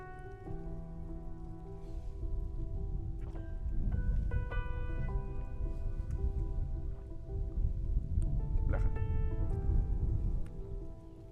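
Water from the Pripyat River pours and splashes steadily for several seconds, swelling and easing, with a few faint tonal hums underneath.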